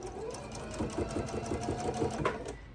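A sewing machine stitches a quilt block, its needle running in a fast, steady rhythmic chatter close by, with no voices.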